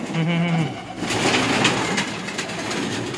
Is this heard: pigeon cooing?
yes